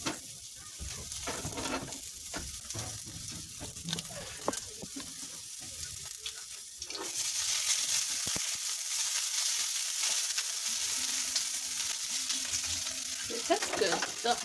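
Food fries in a little oil in a home kitchen, sizzling steadily and close by. Scraping and stirring clatter comes first, then a louder, even sizzle takes over, with no one talking.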